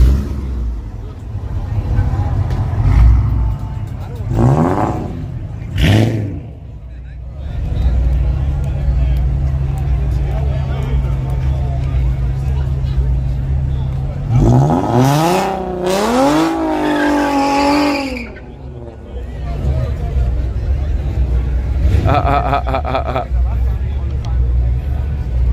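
Small-block four-cylinder drag car revving hard and racing down a track on a busy night, engine pitch sweeping up through rapid gear climbs, loud and close, with crowd chatter and talk running underneath.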